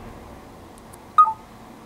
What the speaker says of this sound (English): You'll hear that beep sound when I stop it.